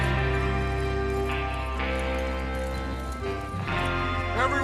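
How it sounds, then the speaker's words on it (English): Horses in the video game Red Dead Redemption 2 clip-clop steadily as a group readies to ride out, the hoofbeats running under a continuous music score with voices talking briefly. "Get your horses ready."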